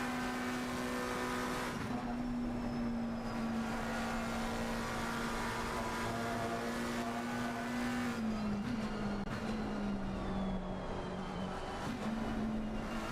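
GT race cars on the Mistral straight at Paul Ricard in a racing video game, a steady high-pitched engine drone held at speed with a gear change and a second car blending in, constant and loud.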